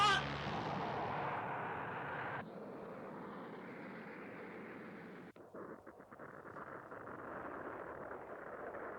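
A base blows up in the Mobile Suit Gundam anime: a loud booming explosion rumbles and fades, followed by a sharp crack and continuing lower rumbling debris noise.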